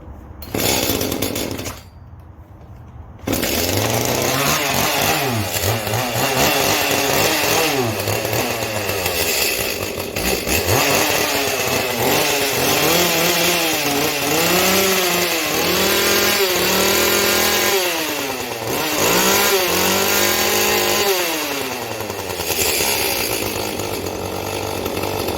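A chainsaw under repair starts and runs, its two-stroke engine revving up and down in repeated loud bursts after a brief quiet moment near the start, alone without talk.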